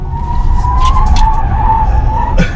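A Hyundai Ioniq 5 electric car at full throttle with traction control switched off breaks its tyres loose, giving a loud sustained squeal close by that wavers in pitch for a couple of seconds with no talk.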